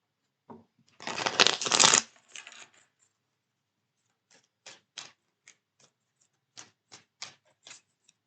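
A deck of oracle cards being shuffled: one dense riffling burst close by, followed by a series of short, separate card snaps and taps, with no talking.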